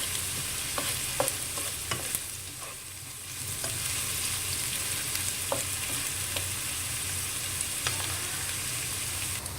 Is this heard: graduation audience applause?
no